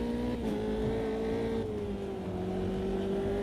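A sim racing car engine drones steadily, then its pitch drops clearly partway through as it short-shifts up a gear and keeps pulling at a lower note. The sound is continuous and close, with no talking.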